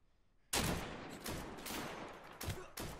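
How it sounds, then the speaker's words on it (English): Gunfire in the survival shooter Deadside during an attack on a convoy, a loud burst of rapid shots breaking out after a quiet start, with further sharp volleys toward the end. "let's open fire"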